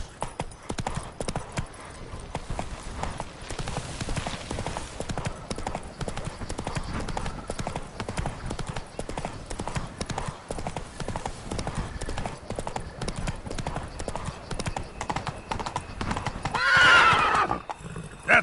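Geralt's horse Roach gallops in The Witcher 3: Blood and Wine, a continuous rapid hoof clip-clop with game ambience, ending in a loud whinny near the finish; a voice speaks briefly.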